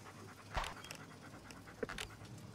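A dog in a video game pants quietly in quick, soft breaths, with a couple of slightly louder huffs, faint and close.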